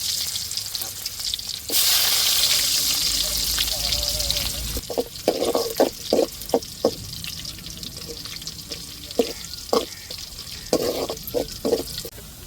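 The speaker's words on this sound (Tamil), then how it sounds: "குழம்புக்கு தாளிச்சுக்கிடுவோம் கடுகு சேர்த்தாச்சு இப்போ கட் பண்ண சின்ன வெங்காயம் சேர்த்துக்கிடுவோம்" Small chopped onions hit hot oil with popping mustard seeds for a prawn and okra curry tempering, giving a loud steady sizzle that settles into crackles and scattered pops up close.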